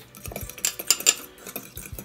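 Spicy tuna sushi filling being mixed in a bowl with a utensil, giving a few close clinks and scrapes in an uneven rhythm over about two seconds, with no talk.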